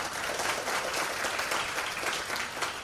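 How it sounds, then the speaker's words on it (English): An audience applauds panel speakers at the close of a conference session, a dense, steady wash of many hands clapping that holds at an even level throughout, with no voices rising above it. "please let's give a big round of applause."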